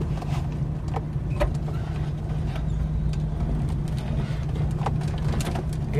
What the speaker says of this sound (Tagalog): daming sasakyan dito